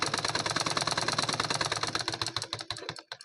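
A sewing machine stitches the neck piece of a cotton lined blouse in a fast, even rattle of needle strokes, close and loud, then slows into a few separate clacks and stops.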